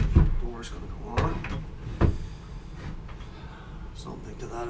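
A wooden door being fitted and shifted into place gives several hollow knocks and thumps spaced a second or so apart, with creaks and scraping between, close by while people talk throughout.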